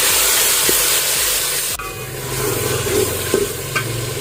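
Garlic-ginger paste and tomato frying for kadhi make a loud, steady sizzle with repeated scraping stirs and a sharp clatter partway through.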